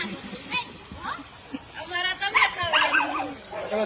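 A dog yips and whimpers in short bursts close by, mixed with people talking loudly during a heated argument indoors.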